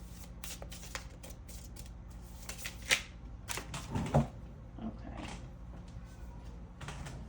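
A deck of tarot cards being shuffled close by, quick riffling bursts and soft slides repeating in irregular rhythm, fairly quiet and with no talking.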